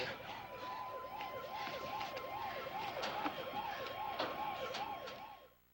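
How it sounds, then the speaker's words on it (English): An ambulance siren wails in a rapid, repeating rise-and-fall pattern, steady and fairly close, fading out at the very end. "That's the ambulance."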